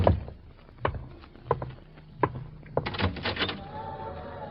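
In an old-time radio drama, a door is forced with a series of heavy thuds and bangs spaced about a second apart, then a rapid cluster of knocks and a rattling creak as it gives way.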